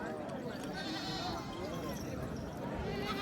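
Goats bleat repeatedly over a steady outdoor background at a goat market, with people talking nearby throughout.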